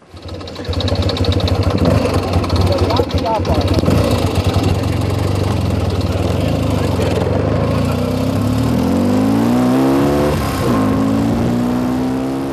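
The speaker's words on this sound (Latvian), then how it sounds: "Kopumā ļoti labs motocikls." A motorcycle engine runs loud and close, holding a steady idle-like drone before revving up with a rising pitch near the end and settling again.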